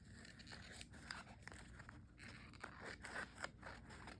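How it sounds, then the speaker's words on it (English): Scissors slicing through thin vellum sticker paper on a journal page, giving a faint, close, continuous crunchy rasp with small crackling bursts as the blades work along the cut. "I'm gonna cut this last part, this little piece off down here at the bottom"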